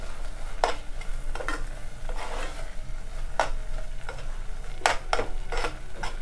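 Apple jam being stirred in a pan on the stove, with several scraping strokes of a spoon against the pan over a soft, steady cooking hiss, no voices.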